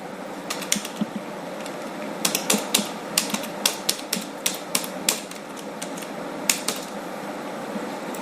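Keys clack on a computer keyboard as a password is entered, a close, steady run of sharp taps with brief pauses and no voices.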